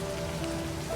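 Steady rain falls in a video game scene, a dense, even hiss of drops on surfaces with a few faint tonal hums held underneath, continuous from start to finish.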